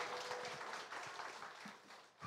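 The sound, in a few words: congregation applauding in church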